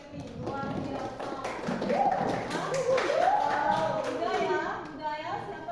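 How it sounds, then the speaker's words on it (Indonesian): Scattered hand claps and taps sound in a classroom, fairly close and uneven, mixed with children's and a teacher's voices talking over them. "Beri tepuk tangan untuk si Evi, luar biasa."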